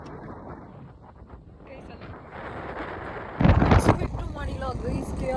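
Strong wind buffets the microphone at the KRS backwaters, a steady rushing roar that surges much louder partway through and stays gusty to the end.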